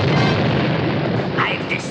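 A cartoon spaceship is blasted by an outer-space weapon, a loud continuous explosive roar that fills the whole moment with a brief rising whoosh near the end, mixed with show sound.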